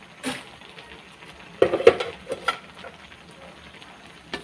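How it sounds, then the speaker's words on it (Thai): Bamboo shoots with minced pork, coconut milk and basil are stir-fried in a pan, with a soft steady sizzle under scattered clattering stirs and scrapes, near and fairly quiet, with no voices. "ผัดประมาณห้านาทีก็เสร็จแล้วค่ะ"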